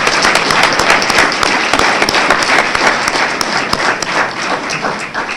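A large audience at a Martin Luther King Jr. justice brunch claps loudly and densely for several seconds, a continuous close roar of many hands with scattered sharper individual claps.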